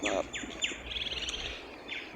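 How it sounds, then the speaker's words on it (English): Birds chirp outdoors in a quick series of short, bright tweets and trills, moderately near and fairly quiet, with no talk. "you can hear the birds chirping"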